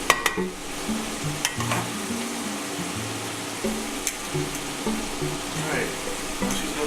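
Garlic sauce is stirred into a hot pan, with a steady sizzle of frying under scraping stirring strokes and occasional clinks of the utensil against the pan, close and moderately loud, no talking.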